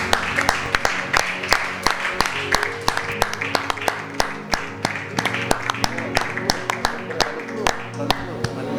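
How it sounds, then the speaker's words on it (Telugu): A church congregation at a Sunday service claps in a steady, rhythmic beat that fills the room. Voices can be heard faintly under the clapping. "చప్పట్లు కొడదామండి."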